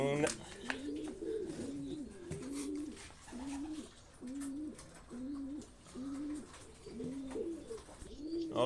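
Racing pigeons coo in repeated low, rounded phrases at a steady rhythm, close by, with faint rustling and bird chirps in the background.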